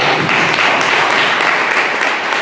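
A church congregation at a Sunday service clapping together, a dense, steady wash of applause that stays loud and close throughout without any break.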